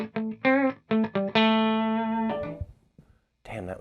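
An electric guitar runs through a Boss DD3-T delay pedal. A few short plucked notes lead into one long sustained note that fades, followed by faint trailing repeats and a final burst of notes.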